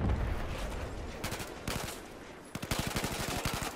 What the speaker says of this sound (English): The hip fire is real.